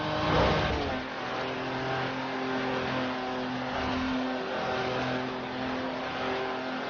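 Jaguar E-Type engine in Forza Horizon 4, a steady sustained drone at moderate volume holding one pitch throughout the clip, heard alone without talk.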